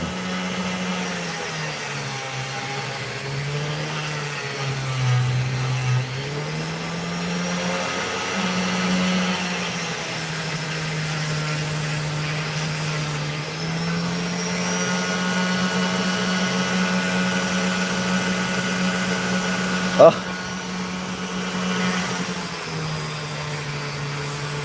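A cutting machine slices through opal with a steady, close mechanical whine whose pitch dips and rises as the load changes, and a single sharp click near the end.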